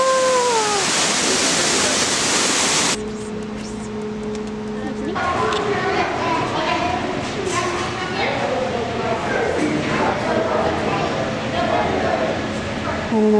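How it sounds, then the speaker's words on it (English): Waterfall at the San Diego Zoo bear enclosure pours as a steady broadband rush, loud and close at first, then continuing beneath chatter and overlapping voices of people nearby. "Maybe it's about to take a bath in the waterfall."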